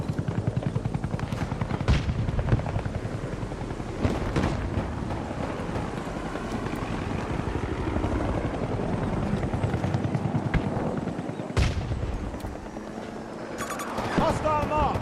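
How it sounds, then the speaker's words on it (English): A helicopter in the Battlefield 2042 video game drones steadily beneath game voices and battlefield noise, with sharp gunfire bursts cracking through at intervals. "Contact spotted. They've got a helo."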